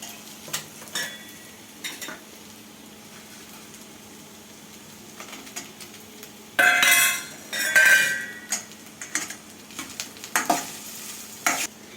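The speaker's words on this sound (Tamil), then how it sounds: "வெங்காயம் ஒரு 2 நிமிஷம் எண்ணெயிலேயே வதங்கட்டு" Onions sizzle softly in oil in a pan while a utensil stirs and scrapes, with a couple of louder bursts of frying midway.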